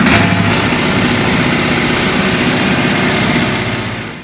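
An air-powered rock drill runs continuously, a loud, steady mechanical roar with a rough hammering rumble that holds throughout and eases off slightly at the end.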